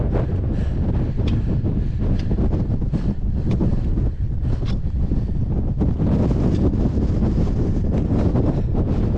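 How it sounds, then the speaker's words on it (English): Strong wind buffets the microphone continuously on a high mountain ridge in the Holy Cross Wilderness, a loud roaring rumble with gusty bursts throughout. "It is windy up here."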